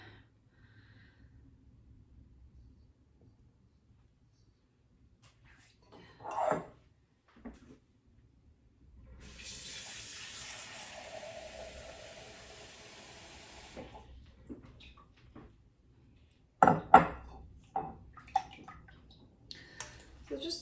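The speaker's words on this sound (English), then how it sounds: "a little bit of warm water, so you can continuously wet your hands down" Warm water runs from a tap over hands kept wet while shaping a very wet white bread dough made with poolish, a steady hiss of several seconds between quieter handling noises.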